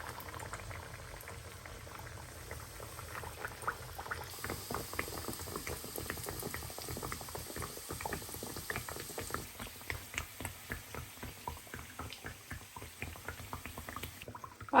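Petulla dough fritters fry in hot oil in a pan, giving a soft, steady bubbling with a rapid patter of small crackles and spits that grows slightly busier partway through.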